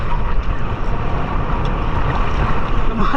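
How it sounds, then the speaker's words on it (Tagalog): Rough sea water churns and slaps against a fishing boat near Puro Island with constant loud rumbling and strong wind noise, waves pounding without letup. "Lumalakas yung alon."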